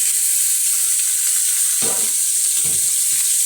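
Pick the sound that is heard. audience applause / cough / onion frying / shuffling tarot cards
onion frying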